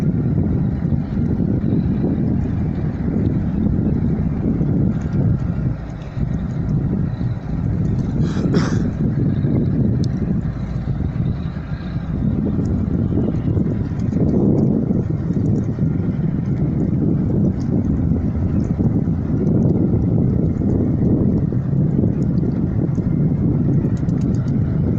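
Tugboats swinging around as they pull a heavily loaded soy bulk carrier away from its berth at the Rio Grande superport in Brazil: a continuous, loud low engine rumble mixed with wind buffeting, with no clear breaks.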